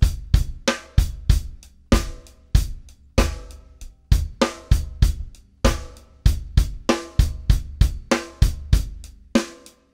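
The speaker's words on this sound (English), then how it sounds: "I'm going to add the backbeat to beats two and four, just our standard two and four backbeat" Drum kit playing a standard groove with the backbeat on beats two and four, steady rhythmic kick, snare and cymbal hits at moderate tempo, close and clear with no talking.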